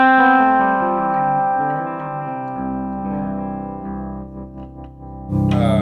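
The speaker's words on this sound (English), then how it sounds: "So this is just a clean sound of the amp." Clean electric guitar through an amp, sustained chords ringing with harmonic overtones, steady and close, a brighter strum near the end.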